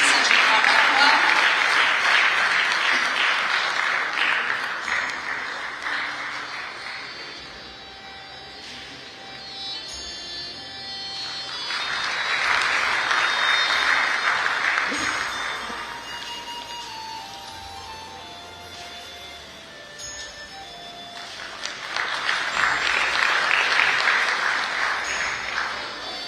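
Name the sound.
audience applause for a speaker at a convention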